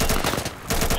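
Rapid automatic gunfire in the video game Insurgency, a loud, close burst of shots that pauses briefly and then resumes for about a second.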